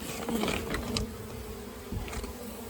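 A swarm of bees buzzing steadily close by, a dense droning hum with louder passes as individual bees fly near.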